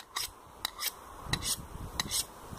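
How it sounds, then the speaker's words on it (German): A knife blade is drawn over a round honing steel in a series of quick, faint scraping strokes in an uneven rhythm, heard close up. "einfach ein wenig über einen runden Messerstahl abziehen"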